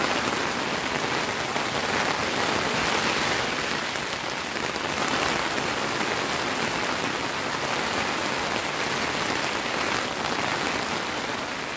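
Heavy rain pours down steadily on a campsite, a dense continuous hiss of drops drumming on surfaces, loud and unbroken throughout.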